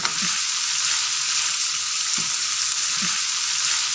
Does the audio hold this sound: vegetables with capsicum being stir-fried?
yes